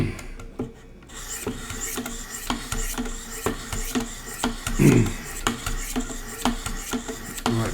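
A knife is sharpened on a Wicked Edge Pro with 800 grit stones, rhythmic rasping strokes scraping close and loud at a steady pace, one stroke roughly every half second, with no talking.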